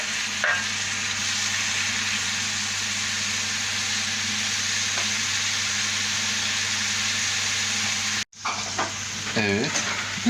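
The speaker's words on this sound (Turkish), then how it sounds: "İyice kavuruyoruz." Turkish kokoreç sizzles and fries steadily in a pan as it is sautéed at home, a dense, continuous crackle with the occasional scrape of stirring and a brief clatter near the end.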